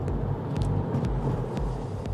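Steady car engine rumble with a low, continuous drone and periodic swells as a police patrol car moves to overtake a suspect's car during a pursuit, with no voices.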